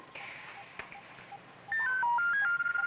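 A telephone in a 1965 Venice-set spy drama is dialed with a short run of electronic tones in stepped pitches, preceded by faint rustling.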